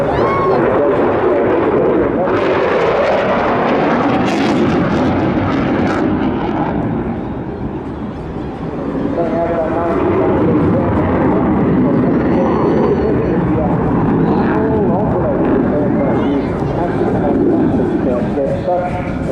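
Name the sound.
display aircraft performing maneuvers at Bournemouth Air Festival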